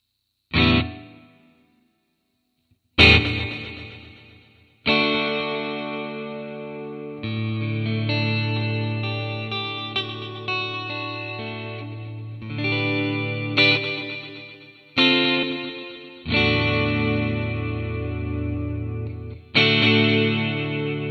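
Clean guitar chords and notes played through an Eventide MicroPitch classic harmonizer effect running on an iPad, with thick, shimmering pitch-shifted doubling and chorus-like width, struck in separate phrases with short gaps, no talking.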